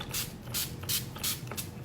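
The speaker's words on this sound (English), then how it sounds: "I'm gonna spray some more of this." Sunscreen spray bursts out in four short, evenly spaced hissing puffs, close and fairly soft, with no talking.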